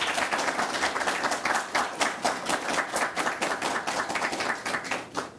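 A television studio audience applauding guests at a political forum: dense, continuous clapping from many hands, loud and close, lasting throughout without a break.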